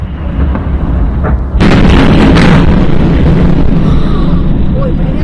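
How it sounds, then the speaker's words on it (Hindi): A recorded blast from the war in Ukraine erupts as a loud, sudden boom after a rumbling lead-in, then a long roaring decay. "एक बार धमाकों की आवाज आपको सुनवाते हैं जरा।"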